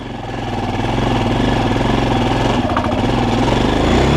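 An enduro motorcycle engine, a Forte CBA 250, idles low and steady at minimum revs, a deep rumbling putter that stays loud and close throughout with no pauses.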